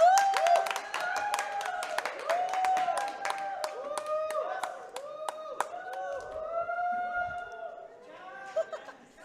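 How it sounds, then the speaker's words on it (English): A crowd in a pool hall cheers, whoops and claps after a winning shot in a league playoff match, with loud, overlapping voices and a bright clatter of applause running throughout. "Listen for the cheer."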